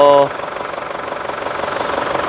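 A car engine stuck in safe mode after a pressure fault, with revs limited to 2,000 rpm, hums at a steady idle with a slight pulsing vibration, just after a brief tonal beep at the start.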